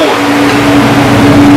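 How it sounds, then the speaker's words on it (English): Compressor of a walk-in cooler running inside a food trailer: a close, loud, steady mechanical hum with a constant low drone, unbroken for the whole moment. "you'll hear that the compressor's on and it's cooling inside this walk-in cooler."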